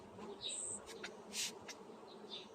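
Honey bees buzz around an open hive during a varroa mite treatment sprayed with oxalic acid, a faint steady hum broken by several louder passes of individual bees flying close by.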